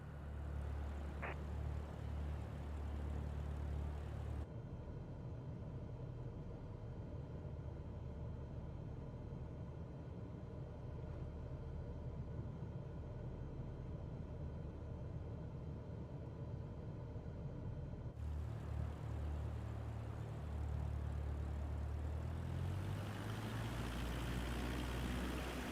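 Airliner on final approach and landing in Microsoft Flight Simulator 2024, a steady engine rumble and wind roar that holds evenly throughout, with a low thud and rising whine near the end.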